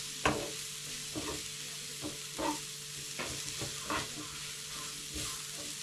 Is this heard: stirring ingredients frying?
yes